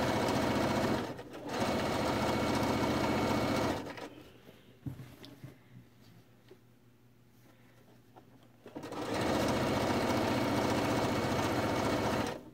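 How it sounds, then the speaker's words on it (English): A sewing machine stitches down the facing on a quilt, running in loud, steady bursts at the start and end with a quieter pause between them. "I'm going to sew this down, and at the bottom end, let me sew this side down real quick."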